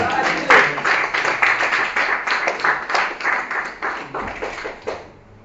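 Church congregation clapping together after a prayer at a revival service, steady rhythmic applause filling about five seconds before fading at the end, with some voices mixed in.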